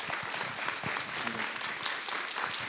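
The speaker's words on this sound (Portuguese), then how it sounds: "Dá uma salva de palmas para Jesus aí." Continuous crowd applause in a church conference hall, a dense even wash of many hands clapping with no gaps.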